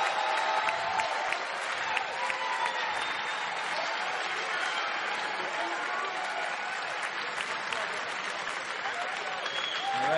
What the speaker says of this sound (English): Can I get a massive, a special round of applause for the last possible game and the BlizzCon 2011 Grand Finals?